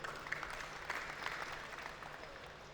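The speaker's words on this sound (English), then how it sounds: "Give yourselves another round of applause." An audience at a Caribbean food and beverage trade event gives itself another round of applause, a soft, even wash of clapping that stays fairly distant and continuous throughout, with no one speaking over it.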